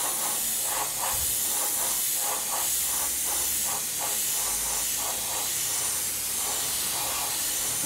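A second coat of base paint is sprayed onto a model from an airbrush or spray can, making a steady close hiss that pulses in short bursts against a constant airy rush, with no talking.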